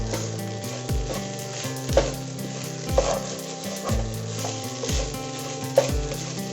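Rice sizzles while frying in ghee for ghee rice, a steady close crackle broken by regular scraping stirs about once a second, with no voices.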